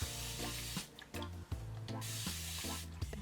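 Water sprays from a spray bottle onto natural hair during a wash-and-go routine in a series of short, close bursts with brief pauses between them, and no talk over it.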